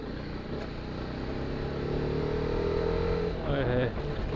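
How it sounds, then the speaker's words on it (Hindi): A TVS Apache RR310 310 cc motorcycle engine drones steadily while riding up a flyover in the early morning, a continuous close rumble with rising pitch near the end. "क्या आवाज़ आती है बाइक की यार, सुबह सुबह मज़ा आ जाता है"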